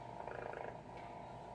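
A steady, low purring hum with a soft mechanical buzz from a toy cat runs continuously at close range, no voices present.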